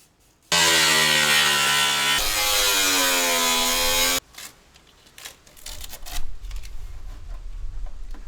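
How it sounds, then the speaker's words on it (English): On a custom car build, a power tool trims the fenders with a loud, close, tonal whine lasting about four seconds that dips in pitch midway, then gives way to quieter clunks and shuffling. "Now I'm gonna trim the fenders a little more."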